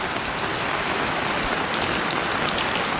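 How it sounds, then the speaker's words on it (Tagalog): Steady rain patters on a surface, a dense continuous hiss with no breaks. "Partida umuulan pa."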